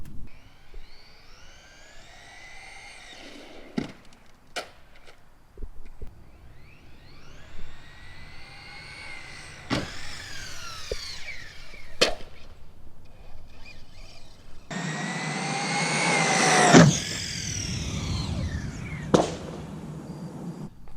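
A Traxxas Rustler 4x4 VXL RC car geared with a 60 mph pinion runs wide open toward a jump ramp. Its electric motor whine rises and falls over several passes, growing louder with a sharp burst near the end.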